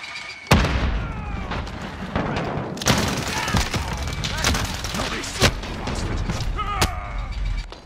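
Frag grenade blasts in Call of Duty: Modern Warfare, with a sharp boom near the start and another heavy burst mid-clip, set in a dense, loud mix of gunfire and battle noise.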